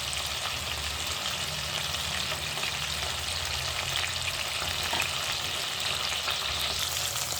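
Potato pieces frying in a pan with a little oil, a steady, close sizzle with light stirring scrapes throughout, no talking.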